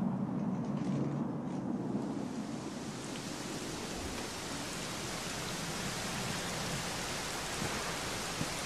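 Steady rain falls in the Dragon Quest XI video game, a dense, even hiss that swells slightly after the first few seconds and continues alone without talk.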